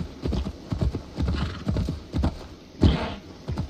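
Horse galloping under a rider in Assassin's Creed Valhalla, a steady run of close, rhythmic hoof clip-clops with one sharper thud near the end.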